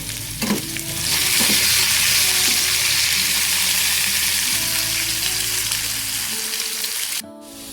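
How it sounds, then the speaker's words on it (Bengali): Salted potatoes fry in a pan with a loud, continuous close sizzle and occasional stirring scrapes, ending abruptly as the sound drops away. "আলুটা এদিকে ভাজা হচ্ছে, এটা ভাজা হোক।"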